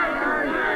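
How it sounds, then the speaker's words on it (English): A high school baseball crowd, the Beekmantown team and fans on their feet, cheers and shouts together in a dense, sustained roar for a brief moment. "Beekmantown team on their feet, trying to cheer a rally here."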